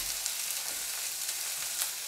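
Onions and garlic frying in a pan give a steady, close, high sizzle with light crackles and no talking.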